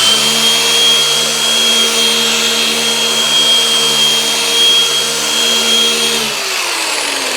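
A Shurhold 3500 dual-action polisher runs steadily at close range with a constant motor whine, then its pitch drops as it winds down near the end; no one talks.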